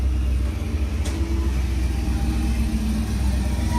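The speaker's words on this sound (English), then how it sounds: "62 Impala leaving." A 1962 Chevrolet Impala engine rumbles steadily at a classic car show in Huntington Beach, a continuous mid-range drone that stays close and loud throughout as the car moves off.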